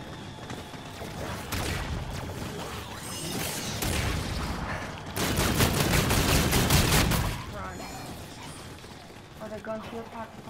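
Rapid automatic gunfire and weapon effects from the Call of Duty Zombies in Spaceland game, dense and continuous with a loud sustained burst in the middle, while a player talks over it.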